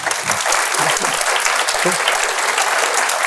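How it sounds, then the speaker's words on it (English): An audience at a product marketing talk applauds the speaker, with loud, dense clapping sustained throughout and a few faint voices briefly mixed in. "Round of applause for Mukul"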